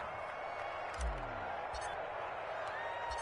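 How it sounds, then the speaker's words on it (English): Steady crowd noise from an American football video game on PS4 fills the clip, a broad constant roar with a faint swell of applause, with no talk over it. "How about some applause for the defense there?"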